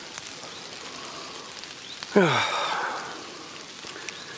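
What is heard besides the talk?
rain falling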